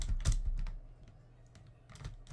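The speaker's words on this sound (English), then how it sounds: "you're gonna hear a lot of fucking button mashing." Rapid clicking and clacking of computer keyboard keys during play of the Dream Daddy video game, bursts of quick presses with a brief lull in between, close and fairly quiet.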